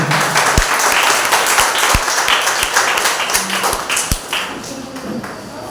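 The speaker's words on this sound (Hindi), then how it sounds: "पवित्र परमेश्वर के लिए एक बार जोरदार तालियां हो।" A congregation at a Hindi Sunday church service gives loud applause, a dense burst of many hands clapping with a few sharp, distinct claps and knocks standing out, slowly easing toward the end.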